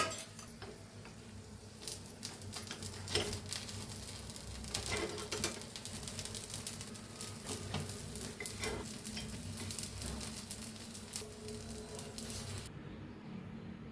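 Appe batter sizzles steadily in an appe pan, a dense crackling hiss with scattered sharp clicks and scrapes as the dumplings are turned, continuous and close before cutting off near the end.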